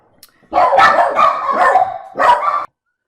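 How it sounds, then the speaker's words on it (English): Dogs bark indoors in a house, a quick burst of loud close barks followed by a second short volley, with no talk. "there's a lot of dogs in here barking"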